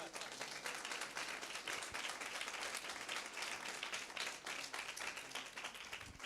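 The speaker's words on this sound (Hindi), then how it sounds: "बजाइए ताली इस बात पर।" Church congregation clapping steadily and continuously, a dense wash of many hands at even loudness with faint voices mixed in.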